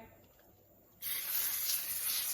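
After a second of quiet room tone, a steady, loud aerosol spray hisses continuously, close by, onto a baking tray lined with greaseproof paper, until the end.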